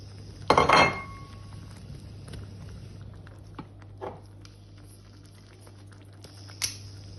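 Browned sausages drop into a pan of gravy in a kitchen, a loud clatter and clink of utensil against pan near the start, then a few faint knocks and one brief metallic tap near the end.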